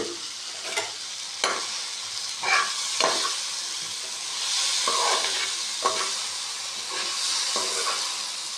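Potatoes fry in a hot pan with a steady loud sizzle and hiss, broken by several sharp scrapes and clatters of stirring spread through the clip.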